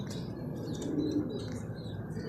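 A pigeon suffering from an eye infection, with watery, half-closed eyes, gives a soft, low coo against a steady background hiss, faint and short.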